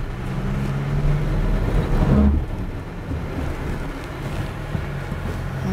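A Mercedes off-road vehicle crawls over holes and hills on two and three wheels, its engine a low, steady rumble mixed with wind buffeting and a heavier surge of noise partway through.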